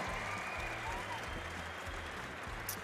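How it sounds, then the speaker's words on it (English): A crowd applauds steadily at an archery championship shootdown at the Vegas Shoot, a dense wash of clapping that holds its level throughout, with a low hum and faint voices underneath. "A round of applause."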